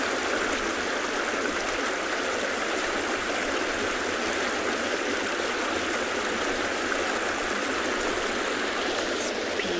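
Water of the Timbavati River flowing steadily, a continuous loud rushing wash with no break, with a faint low engine-like hum beneath and no talking.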